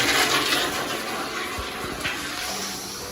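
A urinal flushes in a house with a loud rushing surge of water that settles into a softer steady flow, close by and with no talking.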